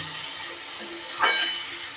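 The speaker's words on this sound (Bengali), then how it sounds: "এইবার সুন্দর করে কষিয়ে নেব" Spice paste for a bhangar fish curry sautés in a pan with a continuous close sizzle and hiss, plus a brief stir or clink near the middle.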